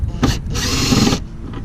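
Power tool whirring in two short bursts as it removes a 10 mm nut from the air box of a Chevrolet S10 pickup, a brief burst followed by a longer steady run, close and loud with no talk.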